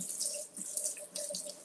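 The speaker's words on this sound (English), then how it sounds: "let's take out the paddle. And I guess I'll just rinse it off." Running tap water splashes steadily into a sink while a mixer paddle coated in red velvet cupcake batter is rinsed off, a close continuous hiss with small drips and shifts in the flow.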